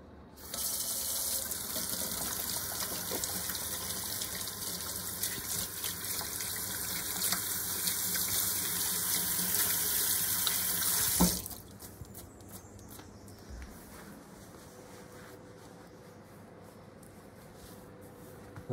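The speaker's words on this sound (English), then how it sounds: "Let's wash my hands." A kitchen tap runs steadily into a sink for handwashing, a loud constant gush for about eleven seconds that then cuts off, leaving quiet room tone.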